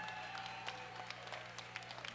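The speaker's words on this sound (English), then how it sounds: "how about a huge round of applause for Mark Evans for his great work here" Comedy-night audience aboard the cruise ship Carnival Destiny applauding comedian Mark Evans: dense, steady clapping from a crowd, fairly distant and continuous throughout.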